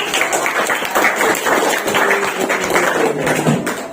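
Classroom applause from teachers and students after a group presentation, a busy, continuous clatter of many hands with a few murmured voices, loud and near.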